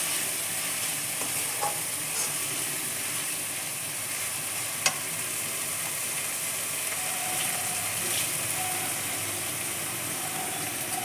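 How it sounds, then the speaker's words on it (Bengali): Masala spices for Doi Katla being stirred in a hot pan, a steady close sizzle and frying hiss with soft scraping of the spoon running throughout, with one brief sharp clink midway. "এখন মশলাটা ভালো করে নাড়াচাড়া করতে হবে।"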